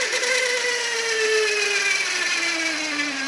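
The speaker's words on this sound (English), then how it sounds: "it's squealing. It's all turning, but it's squealing" The tone generator bearings of a 1966 Hammond M-143 organ squeal as they turn, a steady high whine with a slowly falling tone over a continuous mechanical hum, close and alone.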